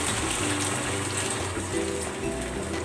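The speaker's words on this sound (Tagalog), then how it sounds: "Lalagay ako ng tubig." Water pours steadily into a cooking pan holding chicken for a Filipino dish, a continuous close gushing splash lasting a few seconds.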